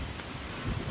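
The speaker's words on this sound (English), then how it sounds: "sorry, it's a bit windy out today" Gusty wind blowing outdoors while a bicycle inner tube and tire are being changed, a steady low buffeting rumble on the microphone that swells slightly near the end.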